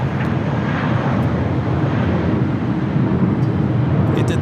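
A jet airplane roars past at Los Angeles LAX airport, a loud, steady broadband engine rumble that holds throughout without any talk.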